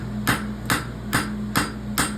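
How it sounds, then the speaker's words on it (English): A hammer strikes the toe of a pony roadster horseshoe on an anvil, five sharp metallic blows in an even rhythm about half a second apart, close and loud over a low hum. "I'm going to take the round side of my hammer and I'm going to run through my toe"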